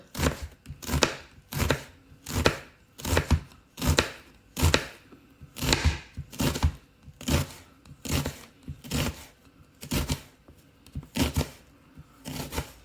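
A knife slices a peeled onion thinly on a chopping board in a steady rhythm of crisp cuts, each ending in a soft thud on the board, close and clear, with roughly a dozen slices and no talking.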